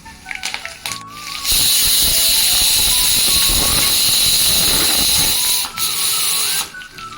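Loud bursting sizzle as curry leaves hit hot oil for a tempering with crushed garlic, a sharp crackling hiss that jumps up abruptly and holds steady for several seconds before briefly dropping and settling.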